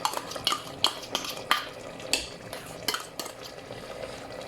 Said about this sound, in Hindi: और इससे अच्छी तरह भून लें।